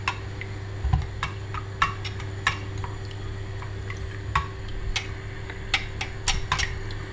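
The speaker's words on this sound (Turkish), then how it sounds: "Homojen bir kıvam alana kadar karıştırıyorum." A yogurt and egg mixture is whisked in a bowl, giving irregular light clicks and taps against the bowl over a steady low hum, with no voices.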